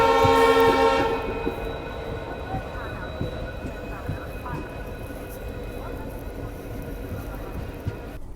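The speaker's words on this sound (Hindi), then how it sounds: "इसमें रानी वेलू नशियर नाम का डीजल लोकोमोटिव लगा हुआ है।" An Indian Railways express train hauled by a diesel locomotive sounds a loud, close horn blast for about a second. Steady rumbling and rhythmic clatter of the rolling rail cars follow.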